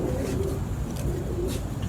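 Racing pigeons coo in a loft, a continuous low throaty warble from several birds close up, steady and unbroken.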